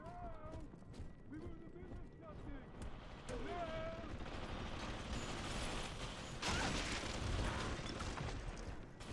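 An automated turret in BioShock 2 rattling off continuous mechanical gunfire, with clanking mechanisms and game voices over a loud, dense background.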